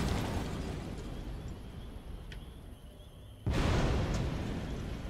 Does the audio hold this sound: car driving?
no